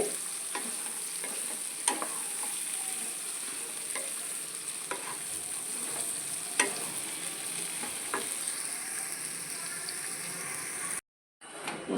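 Bitter gourd (boda kakarakaya) pieces sizzle softly in oil on a low flame, a steady gentle crackle with occasional ladle scrapes and taps, ending in a brief silence.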